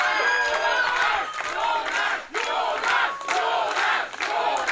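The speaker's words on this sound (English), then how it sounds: "This crowd clearly behind their man" A wrestling crowd at the Passion Pro 11: Balaton event cheers and chants for Jónás Gabriel, loud massed voices rising and falling in rhythmic surges with brief dips between.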